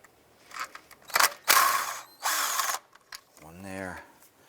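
A ratchet loosens 8mm valve cover studs on a 2001-2007 Ford Escape in short, loud clicking bursts separated by pauses, followed by a brief voice near the end.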